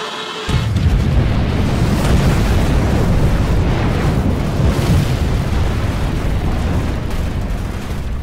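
A loud, sustained blast roars in after a brief silence, a nuclear hand grenade explosion effect opening a PC gaming podcast, its dense low rumble rolling on steadily without a break for several seconds.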